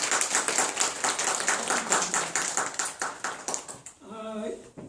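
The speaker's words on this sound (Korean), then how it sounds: "환하게 박수 한번 해주세요" Church congregation clapping together at a Sunday worship service, a brisk rhythmic run of claps filling most of the moment, then fading as a voice begins talking near the end.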